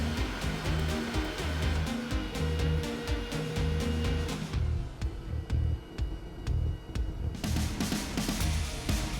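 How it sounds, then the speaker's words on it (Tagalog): A steady whooshing aircon blower fan in a 2013 Honda City runs loudly throughout, a broad airy rush with a constant hum underneath and occasional faint ticking. "Ayos na yung aircon blower motor niya"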